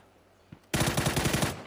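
A rapid burst of automatic gunfire rattles loud and close in a PUBG match, a single shot followed by a fast string of about a dozen reports lasting about a second.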